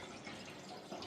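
Water runs and trickles steadily into an engine cooler during a fill test on a freshly assembled race engine, a continuous close splashing and dripping with no talk.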